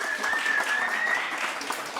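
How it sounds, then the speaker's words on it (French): An audience at a hypnosis party in a villa breaks into applause for a hypnotist, a dense, even wash of clapping that holds at a steady level for two seconds, with a faint thin tone running beneath it. "Sous vos applaudissements, Ricole, l'hypnotiseur."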